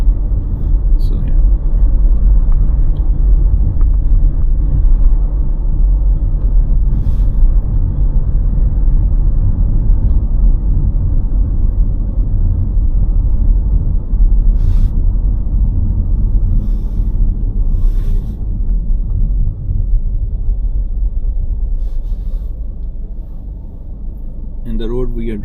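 Steady loud road rumble from a car driving along a main street in the Bad Homburg–Eschborn area near Frankfurt, Germany, a continuous low engine and tyre drone with a few faint clicks, easing slightly near the end.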